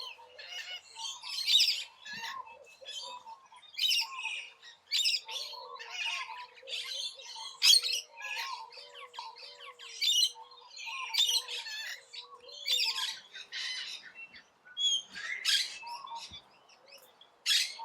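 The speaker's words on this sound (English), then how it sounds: "Large, long-tailed, distinctive parrot of open inland areas with scattered woodlands, where it breeds in hollows of large trees." A large, long-tailed Australian parrot of open inland woodland calls repeatedly, with shrill squawks and chirps in an uneven rhythm, fairly close and clear against a quiet background.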